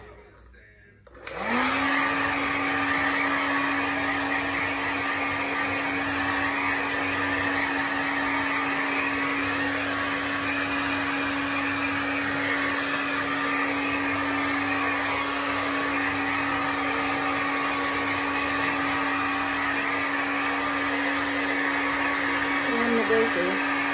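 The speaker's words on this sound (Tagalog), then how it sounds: "Ngayon, magdadry muna ako ang buhok ko." A handheld hair dryer blows steadily on someone's hair, switching on after about a second and then running as a loud, even whoosh with a constant motor hum for the rest of the clip.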